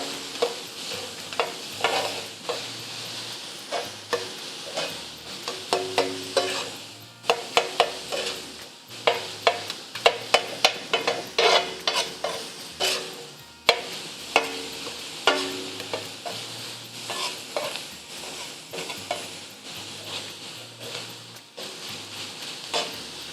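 Spatula scraping and stirring minced keema with garam masala on a hot tawa, repeated irregular scrapes and clanks over a soft sizzle, fairly close, with no talking.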